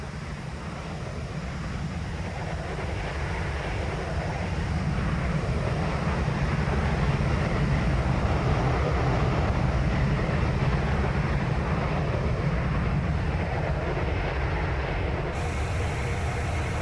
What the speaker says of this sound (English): Let's do a slow-mo flyby.